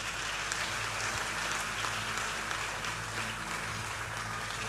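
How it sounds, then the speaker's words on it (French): Church congregation applauding during a Sunday celebration service, a steady wash of many hands clapping at moderate distance, even and sustained with no talk over it. "Acclamons pour elle."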